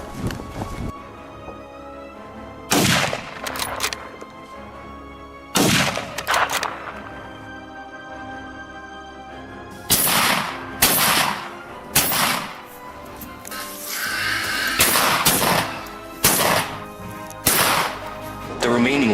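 During a night wild boar hunt on a farm in Georgia, loud, crisp rifle gunshots crack out one by one at irregular intervals over a steady background, with a voice speaking between them.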